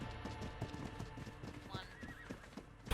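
Horse hooves clip-clop rhythmically in the ARK video game as a horse whinnies partway through, all set against a busy game soundscape.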